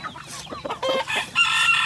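A fully mature breeder rooster gives a string of close, loud clucks and throaty calls that build into a sustained crow-like cry toward the end.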